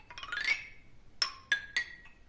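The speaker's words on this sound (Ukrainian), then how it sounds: "А наш ксилофон зроблений із дерева." Bright struck bar tones of a wooden xylophone: a quick rising run of notes, then three separate ringing strikes with short decays.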